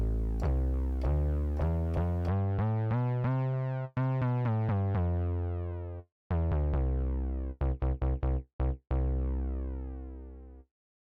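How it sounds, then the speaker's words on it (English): A synth bass preset from the Reason Europa synthesizer plays a sequence of deep, harmonically rich sustained notes with quick releases, then shorter stabbed notes, clean and solo, with no talk. "The bass sound sounds like this."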